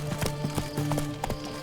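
Roach, Geralt's horse in The Witcher 3, trots with a steady clip-clop of hooves over about two seconds. Close, fairly loud beats sit over low ambient game music, and no one speaks.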